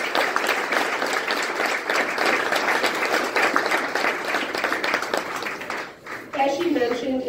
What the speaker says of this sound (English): Can we please just start out with another round of applause for Mary